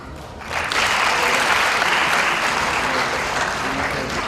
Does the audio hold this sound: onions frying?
no